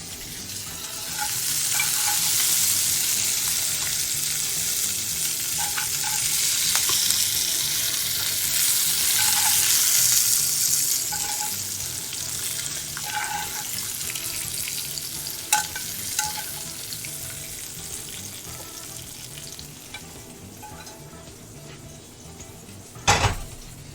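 Green beans and garlic fry in a pan with a steady, loud sizzle, broken by occasional stirring scrapes and clinks of utensil against the pan, plus one sharp knock near the end.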